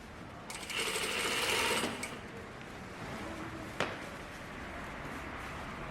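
A sewing machine stitches a button-up shirt: a fast, steady mechanical whir of moderate loudness for about a second and a half, then quieter handling and a single sharp click.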